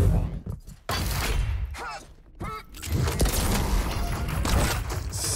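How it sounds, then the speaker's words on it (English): Rocket launcher fire in a Quake duel match, a few sharp blasts and thuds with explosive bursts amid continuous game action, loud and close. "Rocket again!"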